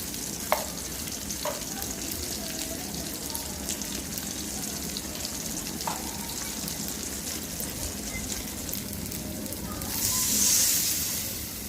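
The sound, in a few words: spices with salt, turmeric, chili frying for egg curry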